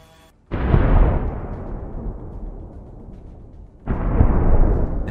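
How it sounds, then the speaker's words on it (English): A drone strike on an armored vehicle sets off a heavy blast, a sudden deep boom that rolls and decays for several seconds before a second powerful burst erupts, both loud with no voices. "An explosion of incredible force."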